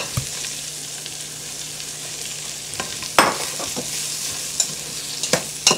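Toasted almonds and beans stirred into a couple tablespoons of melted butter in a hot pan, a soft steady sizzle with intermittent scraping clicks of the spoon against the pan, close and alone without talk.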